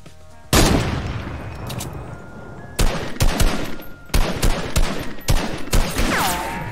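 Video game gunfire during a Fortnite-style arena match, heard as loud close bursts of rapid shots after a sudden opening blast, broken by short pauses, with no talking over it.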